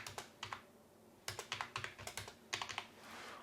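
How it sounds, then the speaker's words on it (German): Keystrokes on a computer keyboard as a phone number is entered, arriving in quick irregular bursts of sharp close clicks separated by brief pauses, with no voices. "Ich gebe meine Telefonnummer ein"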